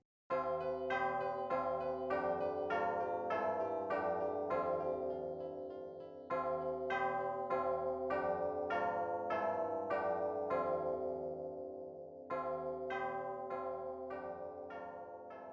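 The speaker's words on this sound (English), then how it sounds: "The bells shift to provide the grandiose tune from before" Bells ring out a grand, stately melody in a music track, with struck tones layered into sustained chords over a deep backing. The phrases swell and briefly thin twice before resuming at full strength.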